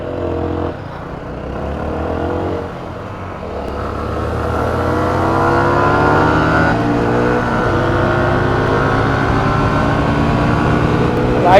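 A motorbike engine climbs through rising revs on a mountain pilgrimage road to Purnagiri, its pitch sweeping upward steadily and loud and close throughout, with a brief dip early on before the long climb.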